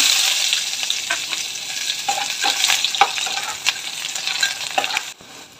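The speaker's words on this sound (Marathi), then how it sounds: "तेल गरम झालेलं आहे, कांदा टाकून घेते" Onion fries in hot oil in a cooking pot, a loud, dense sizzle with frequent stirring scrapes and clicks, fading near the end.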